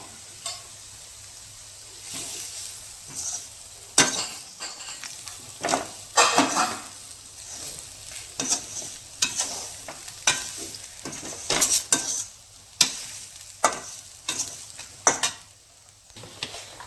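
Grated coconut and turmeric masala being sautéed in a pan for coconut kulambu, a soft steady sizzle broken by repeated scraping and clinking spoon strokes at an irregular pace, close and without talk.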